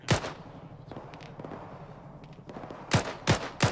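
A .50 caliber machine gun fires in a military simulation game: a short, heavy burst opens the moment, then three loud, sharp shots ring out near the end over faint background battle noise.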